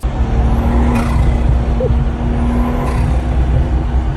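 A BMW M240i fitted with an Eventuri intake gives two quick, fluttering turbo chatters between steady engine drone, recorded close from inside the car without talk.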